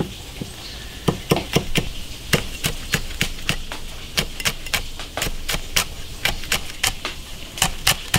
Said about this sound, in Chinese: 切点小米辣，切点大蒜。